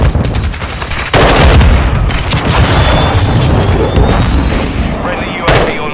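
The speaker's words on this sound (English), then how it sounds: "Friendly cruise missile approaching target." A heavy explosion from a cruise missile strike in Modern Warfare II hits loud and close, its boom spreading into a long rumble amid surrounding gunfire and a later sharp blast, with a voice heard briefly.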